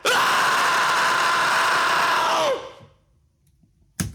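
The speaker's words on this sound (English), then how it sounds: "the coolest part of the whole song is this last scream" A long, sustained distorted scream closes a heavy electronic song, loud and steady for about two and a half seconds before falling off, then a brief harsh burst after a short silence.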